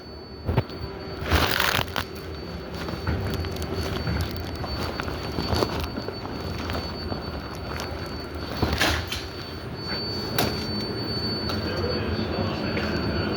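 A moving train rumbles steadily on its rails, and the wheels squeal in sharp, high bursts that come and go over the loud, continuous noise.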